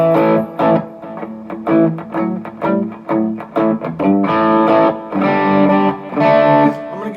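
An electric guitar on the bridge pickup through an Analogman Prince of Tone pedal in distortion mode, gain at 2 o'clock, plays a series of chopped chords and riffs, loud and saturated, with brief gaps between strums.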